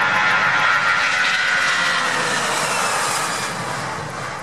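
An airplane roars past overhead, a broad steady rush of engine noise that slowly fades toward the end.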